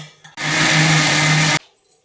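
A kitchen mixer grinder whirs loudly for about a second, blending jaggery and banana into appam batter, its motor hum starting and stopping abruptly with no talk over it.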